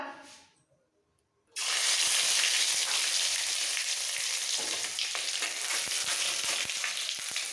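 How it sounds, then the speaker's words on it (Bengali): Garlic paste drops into hot oil with tempering spices and bursts into a loud, steady sizzle after a brief quiet start, continuing unbroken with faint scraping underneath. "ফোড়নটা ভাজা হয়ে গেলে এর মধ্যে দিয়ে দেবো এক পিঞ্চ মতো রসুন বাটা"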